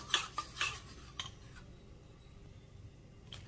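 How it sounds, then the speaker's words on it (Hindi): A spoon stirs a sweet dessert mixture in a pan, with a few scraping clinks early on and a single one later, all quiet and close, then near silence in between. "इसको चम्मच चलाते जाएंगे"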